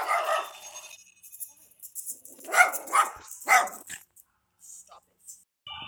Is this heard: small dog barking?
yes